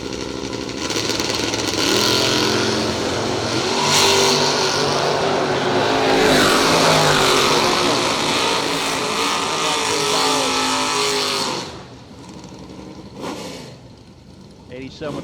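Drag race cars, one a Camaro, roar loudly off the line at a Friday drag racing event, the screaming engines sweeping past and fading after about eleven seconds, with an announcer talking over the noise.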